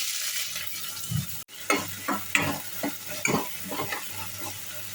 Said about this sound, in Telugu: ఆయిల్ వేడైన తర్వాత సన్నగా కట్ చేసుకున్న ఆనియన్స్ వేసుకొని